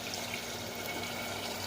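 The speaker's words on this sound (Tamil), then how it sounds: "நான் வந்து 4½ டம்ளர் தண்ணி ஊற்றுறேன்" Water streams steadily into a pot for ven pongal, with rice already inside, making a continuous close-up pouring and splashing sound with no talk.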